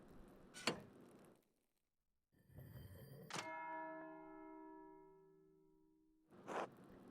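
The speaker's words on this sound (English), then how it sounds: "That's the bell for Sext." An abbey bell in the game Pentiment tolls for Sext with one clear, resonant strike that rings and slowly fades over several seconds, with soft thuds before and after.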